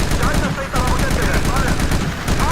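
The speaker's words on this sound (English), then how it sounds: "We've got a 50 caliber machine gun right here, and we're going to use it to gun down as many of these Americans as we possibly can" A .50 caliber machine gun in the video game Battlefield Somalia fires in dense, sustained bursts, loud and close, broken by one brief pause, with faint voices partly under the gunfire.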